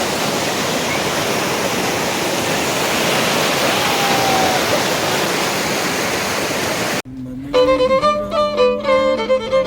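Waterfall at Harsil in the Himalayas on the route to Gangotri, a loud steady broadband roar of falling water for about seven seconds, then cut abruptly to a different sound with tonal content.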